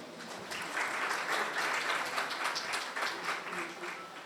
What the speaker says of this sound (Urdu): تالیاں کم ہیں۔